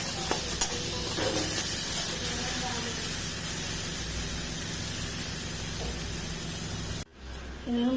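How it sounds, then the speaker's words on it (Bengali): A spice masala fries in hot oil for a boroli fish dish, making a steady, close sizzling hiss with faint stirring scrapes. It continues evenly, then cuts off abruptly near the end. "দেখুন মশলাটা ভাজা হয়ে তেল বেরিয়ে গেছে"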